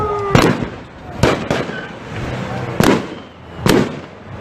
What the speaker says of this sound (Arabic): رصاص حي في كل مكان.